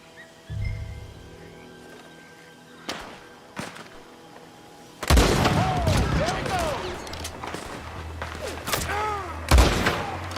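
Gang shootout in Red Dead Redemption 2: a few isolated rifle cracks give way to a dense burst of rapid gunfire with sharp, echoing reports and ricochet whines, loud and close, with brief voices among the shots.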